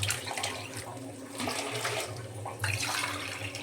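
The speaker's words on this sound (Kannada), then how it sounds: "ಸೊ ಈಗ ಅದಕ್ಕೆ ನೀರನ್ನ ಆ್ಯಡ್ ಮಾಡ್ತೀನಿ." Water is poured from a vessel onto jaggery to make panaka, a sweet drink, giving a steady close splashing gush that surges again near the end.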